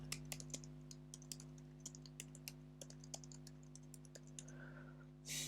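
Typing on a computer keyboard while entering text in an Excel spreadsheet, with a run of quiet, irregular key clicks over a steady electrical hum, ending in a brief louder rustle.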